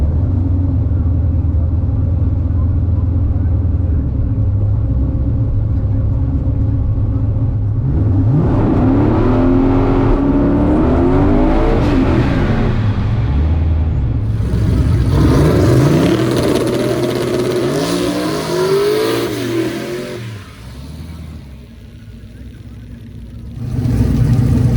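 A drag racing car at Sick Week 2023 idles in line, then engines rev and roar loudly as cars launch down the strip, with rising and falling revving sweeps before a brief lull and renewed rumble.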